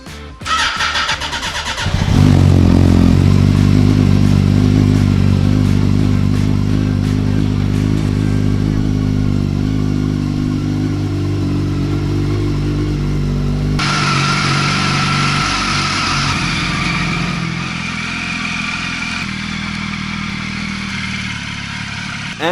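Rebuilt Yamaha R1 sport motorcycle, previously wrecked, starting up and riding on the road: loud close engine rumble with revving and a steady running drone, shifting in tone partway through as speed changes, with wind noise.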